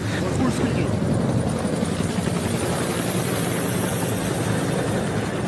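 Russian military helicopters fly overhead during the defence of Hostomel airport, producing a loud, continuous rotor and engine roar with a fast rhythmic chop throughout.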